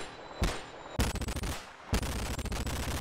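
The Spectre gun fires in the VR game Boneworks with little recoil: three sharp, loud shot bursts, each trailing into a rapid rattling series of cracks, separated by brief gaps, with no voices.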